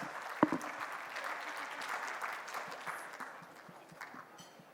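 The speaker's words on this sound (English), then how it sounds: "Can we please have a big round of applause?" Faint, scattered audience applause at an evening gold and jewellery industry event, a thin patter of clapping after a sharp knock near the start, fading toward the end.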